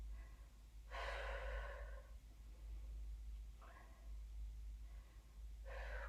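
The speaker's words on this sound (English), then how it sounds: "Just breathe through that hold." Heavy, breathy exhalations come in three rasping bursts during a held position in a HIIT workout, close and steady over a low background hum.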